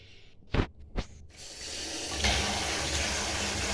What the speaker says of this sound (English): when it sprays out of the nozzle